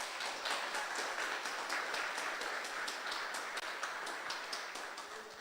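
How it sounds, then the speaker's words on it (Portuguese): A church congregation applauds, a steady, moderately quiet patter of many hands clapping together, with a faint rhythmic pulse running through it. "Você pode aplaudir o Senhor por isso?"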